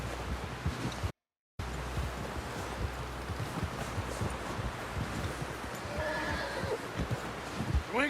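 A horse whinnies and snorts near the end, over continuous hoofbeats and rustling wind in the Red Dead Redemption II video game, with a short dropout of silence early on.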